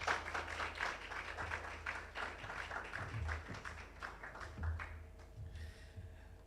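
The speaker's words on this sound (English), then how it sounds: "let's give her another round of applause for an excellent presentation" Scattered applause from a conference audience after a presentation on managing hypertension in primary healthcare in Jamaica, a soft, distant patter of many hands that thins out toward the end.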